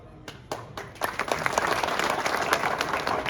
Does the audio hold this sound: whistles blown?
no